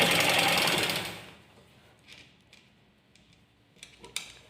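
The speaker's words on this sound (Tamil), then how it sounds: "நான் இப்போ சென்டரில் தான் தைச்சிட்டு வந்துட்டுருக்கேன்." A sewing machine stitches readymade lace onto a saree, a loud whirring run at the start that stops abruptly, followed by faint scattered ticks and clicks.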